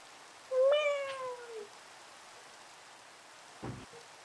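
A pet cat gives one clear, fairly close meow, with a quieter trailing sound after it. A faint rain-like hiss runs underneath, and a short soft knock comes near the end.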